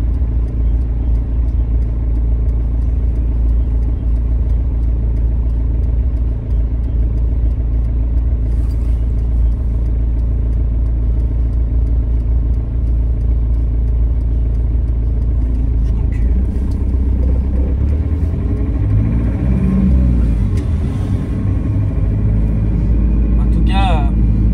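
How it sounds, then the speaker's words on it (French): A Peugeot car's engine drones steadily from inside the cabin as it speeds along an expressway after a decarbonising treatment, a loud low rumble that builds slightly toward the end, with someone talking throughout. "je vais prendre la voie rapide, je vais accélérer un peu pour voir ce que ça donne"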